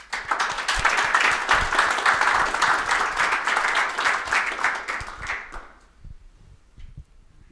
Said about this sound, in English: Let's give a round of applause to Sam.